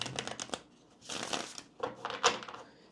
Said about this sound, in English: Go ahead and shuffle the deck here